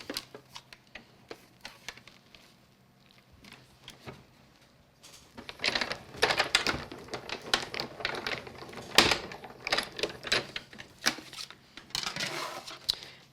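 Die cutting machine running Gemini dies through a cut, a busy mechanical clatter of rapid ticks and rattles that starts faint and grows louder midway, continuing steadily to the end without speech.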